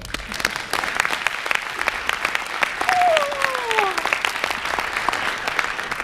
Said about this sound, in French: sous vos yeux ébahis et vos applaudissements fournis